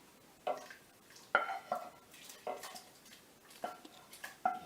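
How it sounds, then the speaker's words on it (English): Soup in a pot being stirred with a spoon, a series of quiet, irregular scrapes and knocks against the pot, each short and close. "Give that a good stir in"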